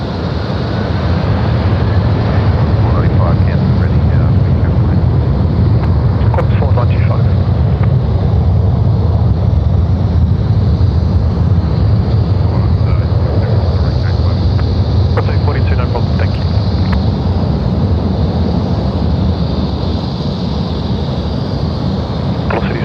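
Qantas airliner bound for Haneda taking off from Sydney Airport at night, a loud sustained roar of jet engines with rumbling low end, and voices talking over it throughout.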